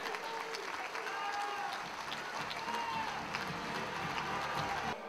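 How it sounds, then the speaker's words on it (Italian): A crowd at an outdoor political rally in Verona breaks into applause, continuous clapping mixed with scattered cheers and voices, fairly distant and steady throughout. "Il mio applauso e il mio abbraccio a loro e al papà."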